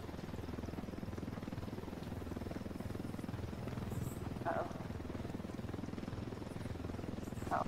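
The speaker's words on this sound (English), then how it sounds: "I'm waiting to see a missile sail into the side of the helicopter." Steady low rotor-and-engine drone of a helicopter in a multiplayer video game, holding constant throughout with brief game effects and players talking over it.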